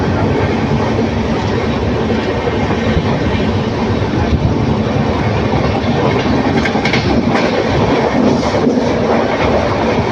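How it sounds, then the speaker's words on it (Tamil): A passenger train runs at about 80 km/h between Coimbatore and Erode, giving a loud, steady roar of wheels and carriage rumble with faint clickety-clack throughout and no pauses. "வண்டி எண்பதில் தாங்க போகுது"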